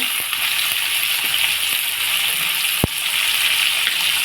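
Chopped carrot and capsicum go into a hot pan, a loud steady sizzle of frying with a single sharp knock partway through; no talking.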